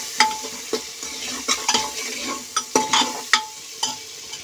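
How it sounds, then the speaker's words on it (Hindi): Chili powder and salt are stirred into vegetable soya pulao in a pan, with a spoon scraping and clinking in short separate strokes roughly every half second over a faint sizzle, close and moderately loud, with no talking. "मिर्च पाउडर नमक इसको भी अच्छे से मिक्स कर लेती हूँ"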